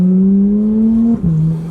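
A Porsche 991 GT3's naturally aspirated flat-six revving loud and near, a steady high howl that dips briefly and then carries on.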